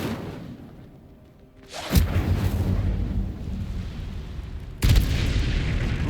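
An Incendio fire spell is cast twice in Hogwarts Legacy, each cast a sudden loud whooshing burst that settles into a sustained roaring crackle. The two bursts come about three seconds apart over game ambience.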